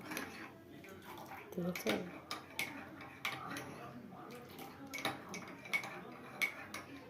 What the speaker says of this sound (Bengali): এবার হবে চাটাকে ভালো করে নাড়া